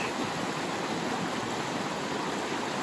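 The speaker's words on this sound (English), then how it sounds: "Here's Mill Creek, not really flowing like I thought it would be." Mill Creek running low under a new bridge, a steady, even rush of water noise throughout with no voices.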